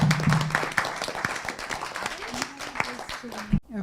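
Brief clapping from the audience at an international debate final for the finalist teams, with distinct claps standing out as a voice carries on over it, ending abruptly.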